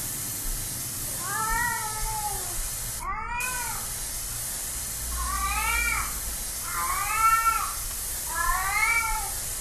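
A cat meows repeatedly inside the horror video game Erie, five drawn-out, wavering cries spaced every second or two over a low, steady ambient game drone.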